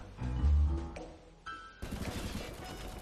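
Gunfire in the Roblox War Tycoon game, a heavy low boom followed by a dense stream of rapid automatic shots, fairly loud and continuous, mostly without talk.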